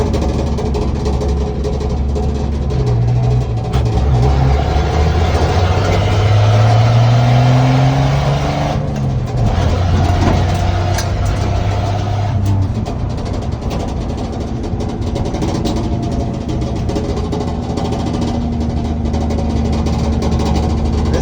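A 1972 Chevy C10 pickup with a small six-cylinder engine revs hard while driving, loud and close, its pitch climbing through a gear then shifting and settling into a steady drone with no talk.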